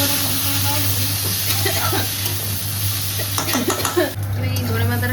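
Chickpeas sizzle steadily in a hot pan while a utensil scrapes and stirs them in short bursts, with people talking nearby.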